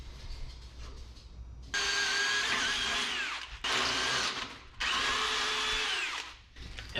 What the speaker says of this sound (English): this 5/8 bit that just keeps hogging all this 3/8 to 1/2 inch thick metal